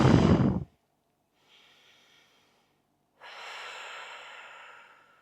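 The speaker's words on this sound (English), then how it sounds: "Just breathing." Slow, deep breaths during a front splits stretching routine for pole dancers: one loud close exhale, a faint breath, then a long airy exhale after a pause, with no talking.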